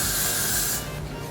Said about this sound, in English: I'm gonna use some Got2b and just spray that top down